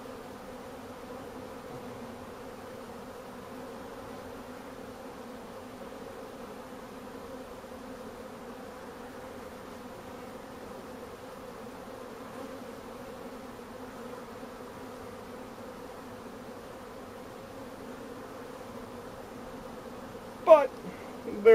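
Honeybees buzz on the frames of a queen-rearing cell builder hive. A soft, even drone runs throughout without a break, and a short faint knock comes near the end.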